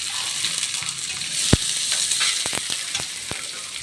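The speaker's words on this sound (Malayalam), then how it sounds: "ഇനി ഉള്ളി ഇടാം." Onions frying with garlic in a pan give a steady, fairly loud sizzle, broken by a few sharp clicks and taps of a utensil against the pan.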